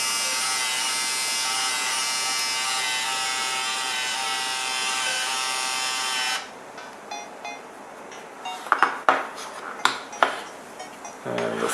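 A small photo printer prints with a steady whirring drone for about six seconds, then stops and is followed by a few sharp clicks and knocks as the print comes out.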